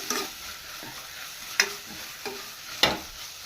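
Tomato rice masala frying in a pan while being stirred, with a few distinct scraping strokes spaced about a second apart over a soft, steady sizzle, close and fairly quiet.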